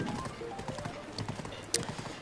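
A horse gallops in Zelda: Breath of the Wild, rapid rhythmic hoof clip-clops running continuously over the game's ambient background, with a brief sharp accent near the end.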